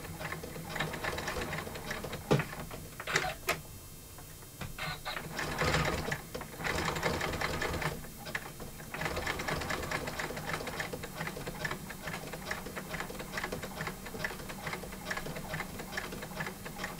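An embroidery sewing machine stitches steadily for the whole stretch, a dense, even mechanical whirr and clatter at close range, with a brief lull partway through before the stitching carries on.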